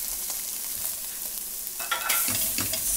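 Tomato paste sizzling with garlic in a pot as a spoon stirs it, a steady close frying hiss with scraping stirs toward the end and no voices.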